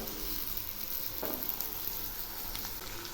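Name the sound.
vegetables with green chillies frying in a pan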